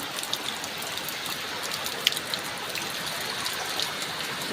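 Heavy monsoon rain pours down steadily outdoors, a dense, loud, continuous hiss of drops hitting surfaces with scattered sharper splats throughout and no voices.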